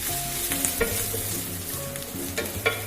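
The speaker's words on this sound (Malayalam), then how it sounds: "അത് ലോ ഫ്ലെയിമിൽ വെച്ച് നന്നായി ഒന്ന് ഇളക്കി അതിന്റെ പച്ചമണം മാറുന്നവരെ ഇളക്കി കൊടുക്കാം" Onion, ginger and green chili sizzle over a low flame in a pan while a spoon stirs them, with close scraping clicks over a continuous frying hiss.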